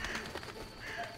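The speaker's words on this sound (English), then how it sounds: "These birds are a bit annoying." Birds cooing and calling in The Witcher video game, a short dove-like coo repeating softly over a steady ambient background, with no voices.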